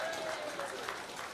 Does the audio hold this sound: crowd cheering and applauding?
yes